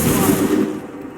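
A ragged volley of musket gunfire in Assassin's Creed III, a loud burst of overlapping shots cracking together for about a second and then trailing off.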